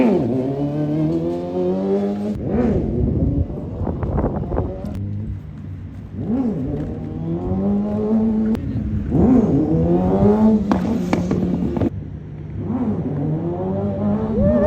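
A motorcycle engine mounted on a wheelie training machine, revving loudly and close in repeated rising throttle surges that fall back between bursts.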